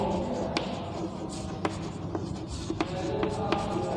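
Chalk or marker writes on a classroom board in a short scratchy burst: a series of quick strokes and taps, close and clear, with faint room noise and no talk.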